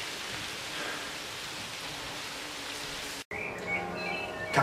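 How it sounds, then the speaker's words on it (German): Light hail falls onto a lawn in a steady, dense patter of small impacts, nearby and fairly soft, continuing after a brief cut with a slightly changed texture. "Jetzt fängt es auch noch leicht an zu hageln."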